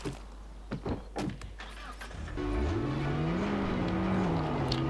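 A Subaru driven in Far Cry 5 in rural Montana: a few thumps and clunks, then a steady engine drone that rises in pitch as the car accelerates, close and fairly loud throughout.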